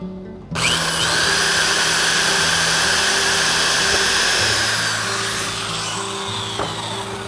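A drill bores a hole through a small wooden twig, its steady motor whine starting abruptly and running loud and continuous, with slight pitch shifts as the bit cuts, before easing off near the end.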